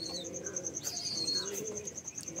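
Soft, low cooing of female pigeons repeats against steady background noise, with a high continuous tone and occasional brief chirps.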